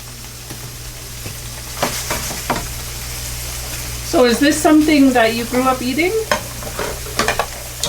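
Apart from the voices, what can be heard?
fish frying in a frying pan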